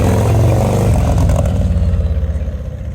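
A Harley motor trike on its first test ride revs loudly up close, a rough throbbing engine that surges early then settles into a pulsing, fading lope as it pulls away.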